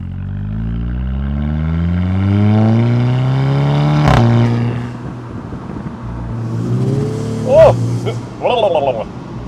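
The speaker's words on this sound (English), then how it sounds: "So it makes that spooling sound where it's sort of just lots of rushing of sound." A remapped VW Scirocco R turbo engine revs up through the gears, its pitch climbing and dropping between shifts, with a rushing turbo spool and people talking over the cabin noise.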